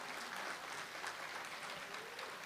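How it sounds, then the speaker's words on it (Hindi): Audience applause at a cultural event honouring artists, steady clapping at a fairly low level that holds evenly throughout with no voices. "जोरदार तालियां सभी के लिए।"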